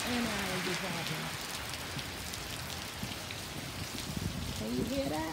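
Steady rain patters and hisses on outdoor surfaces in a dense, continuous wash, with a voice briefly heard over the downpour at the start and end.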